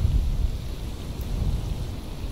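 Steady rain and low rumbling thunder in a video game, a dense continuous wash of rainfall with deep rolling noise underneath, heard alone without talk.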